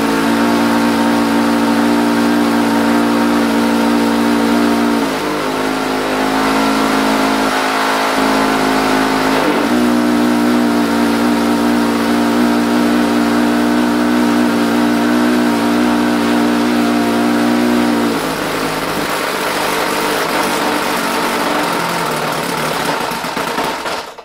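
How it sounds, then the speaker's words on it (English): A small ASP four-stroke model nitro engine sputters and whines at high pitch while being started, running steadily loud for about twenty seconds before the revs drop and fade. "And then we try to start the engine."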